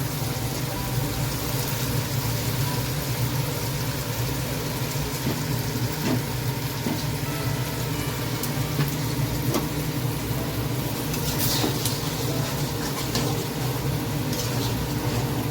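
Egg bhujia fries in a pan over a gas flame turned up high, giving a loud, even, unbroken sizzle from start to finish with faint clicks of stirring and no voices.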